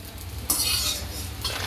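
Chopped cashews and almonds roasting in a pan over low heat for a spicy namkeen mixture, giving a soft sizzle with stirring scrapes that swell into a louder burst midway, close and steady with no talk.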